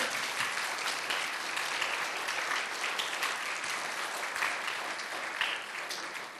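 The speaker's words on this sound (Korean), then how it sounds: "박수해 주시길 바랍니다." A Korean church congregation applauds during an ordination service, a steady wash of many hands clapping evenly for the whole stretch, moderately distant and without talk.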